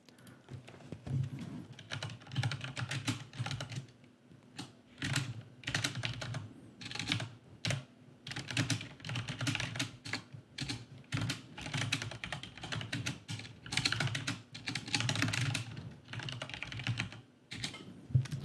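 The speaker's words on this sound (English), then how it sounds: "It is so hard to type around a microphone." Typing on a computer keyboard set close to a microphone during an online card game: continuous, uneven bursts of sharp key clicks and clacks with short pauses, near and clear, with no voices.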